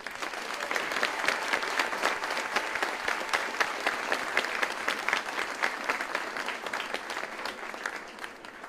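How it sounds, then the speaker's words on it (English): Audience applause for the 282nd Army Band at a Fort Jackson basic training graduation ceremony: a steady, dense clapping that holds at an even level for about nine seconds, with no voices over it. "Please join me in a round of applause for the band."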